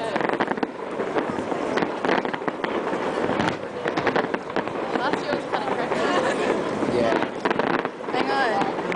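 Bonfire Night fireworks crackle and pop in repeated bursts over a windy outdoor background, while people talk throughout.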